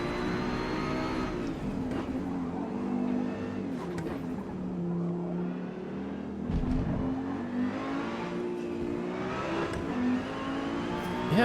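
A race car in Forza Motorsport laps the Nurburgring, its engine rising and falling through gear shifts at constant loud volume, with brief bumps and a few thuds along the way.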